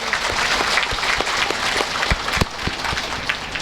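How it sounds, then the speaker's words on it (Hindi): Loud, dense applause from an audience at a live Hindu religious discourse at an ashram, welcoming the host family; steady clapping continues throughout with a few sharper claps standing out near the end. "यजमान परिवार के लिए स्वागत के लिए जोरदार तालियां"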